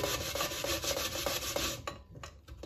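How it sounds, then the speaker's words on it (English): Sweet potatoes are rubbed across the fine side of a grater in quick, rhythmic rasping strokes, close and fairly loud, trailing off into a few lighter scrapes. "So I'm grating my sweet potatoes"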